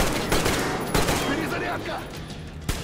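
Repeated gunfire from the video game Metro Exodus: a steady stream of loud shots and bursts over about three seconds, with a sharper crack near the end, heard close up with dense in-game background noise.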